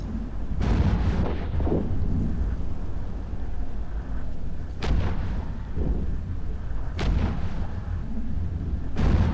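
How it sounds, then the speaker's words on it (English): Heavy missile impacts from a Raven battleship in EVE Echoes space combat come as deep, rumbling booms that land in repeated waves over a constant low roar, loud and close, with no talk. "I like how there's so many missiles flying that by the time the missiles land, the damage is so weird"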